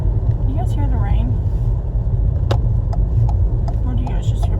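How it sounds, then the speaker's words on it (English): Interior drone of a car driving on a rainy day, a constant low engine and road rumble with occasional brief clicks and taps, while a person talks over it. "Or do you guys just hear my car?"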